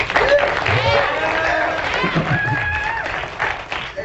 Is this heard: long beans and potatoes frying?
no